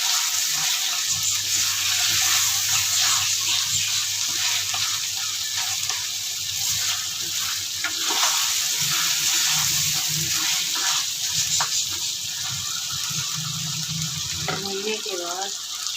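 Mutton karahi fries in a pan, giving a steady, close sizzle that lasts throughout with faint clinks and a low hum beneath it.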